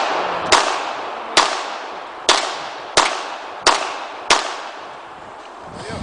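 Seven sharp gunshots ring out in a slow, evenly spaced series outdoors, each crack trailing off in a short decay, with no talk between them.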